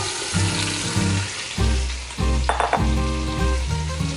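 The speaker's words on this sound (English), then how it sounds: "I saute my garlic" Garlic sautéing in oil in a pan for an Italian green beans and potato dish, a steady close sizzle with soft stirring clatter and a few brief scraping bursts, no talking.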